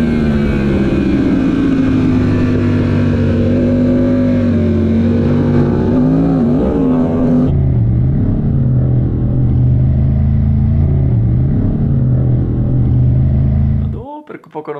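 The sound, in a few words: racing motorcycle engine as the rider opens the throttle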